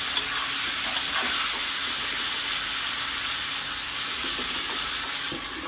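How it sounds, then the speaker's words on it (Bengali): Pointed gourd frying in oil with salt and turmeric: a bright, steady sizzle close by, with a few soft knocks from stirring. The sound eases a little toward the end, and no one speaks. "পরিমাণ মতো হলুদ দিয়ে সুন্দর করে আমি লাল লাল করে ভেজে নেব।"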